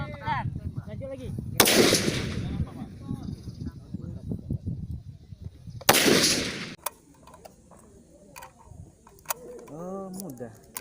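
Gunshots ring out at a shooting practice with the Indonesian Air Force Paskhas corps, two sharp loud blasts several seconds apart, with people talking and clicks between them.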